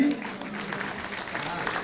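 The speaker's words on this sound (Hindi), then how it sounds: "थोड़ी तालियां बजा सकते हैं।" Applause from an audience at an awards ceremony, steady and moderately loud across the whole moment, with some voices mixed into the crowd noise.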